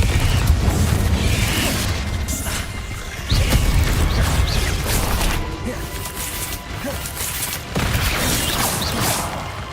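Confringo explosive spells cast in Hogwarts Legacy while exploring a hidden Hogwarts dungeon, several loud bursting blasts and crashes spaced a few seconds apart with whooshes between them.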